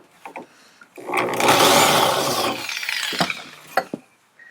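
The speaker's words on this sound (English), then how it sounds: "and then you drill it out." A power drill grinds into metal, drilling out a spot weld, for about two seconds, loud and close, followed by a few clicks and knocks.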